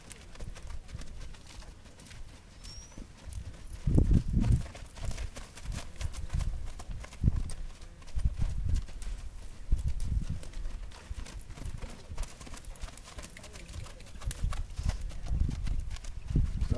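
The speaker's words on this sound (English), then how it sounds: "So that's going to be my first ride on this horse." Hooves of a horse being ridden for the first time clip-clop on the ground in uneven bursts, some steps louder and closer, others faint, with low rumbling handling noise and no talking.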